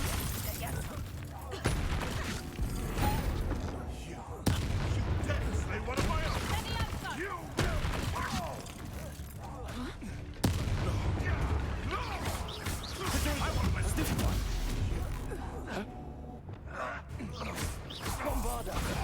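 Bombarda spells go off in Hogwarts Legacy combat, with blasts, crashes and gunfire-like bursts piling up loud and continuous through the fight, while a voice talks over the top.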